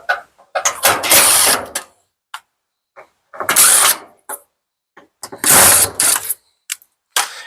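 Three screws are driven out of a Samsung dryer's lint filter housing, heard as three separate whirring, ratcheting bursts from a screwdriver with short quiet gaps and small clicks between them.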